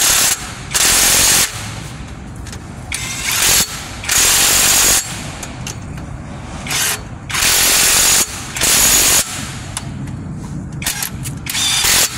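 Impact wrench on the transmission bolts of a Mitsubishi L300, firing in repeated short loud rattling bursts of about a second each, with brief pauses between them.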